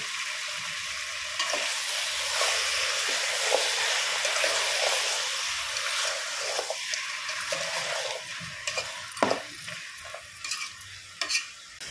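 Chicken sizzles and fries in a pan for a gravy curry with turmeric added, steady crackling hiss with intermittent scraping stirs and clinks of a spoon against the pan, growing busier toward the end, no talking.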